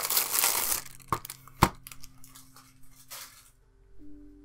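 Packaging crinkles and tears as an Altenew watercolor metal tin set is unwrapped, close-up, with a loud burst of rustling, a couple of sharp snaps and quieter crackles fading out.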